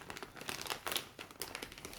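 A parcel sent from Scotland being unwrapped, its packaging crinkling and rustling steadily up close in a quiet room, with no voices.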